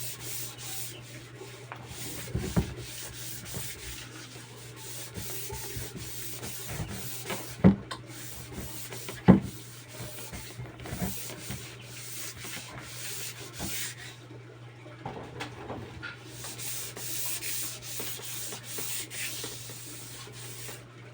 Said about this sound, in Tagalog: Yung liha gagamitin yung medyo pino, huwag yung masyadong magaspang, baka numipis naman yung PVC.